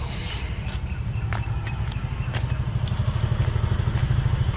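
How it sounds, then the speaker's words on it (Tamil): Two Bajaj NS200 motorcycles idle side by side while warming up, a steady low pulsing thrum with occasional light clicks and clatter nearby. "ரெண்டு வண்டி வார்ம் அப் ஆகட்டும்னு சொல்லி ரெண்டு வண்டி வார்ம் அப் ஆகிட்டுருக்கோம்."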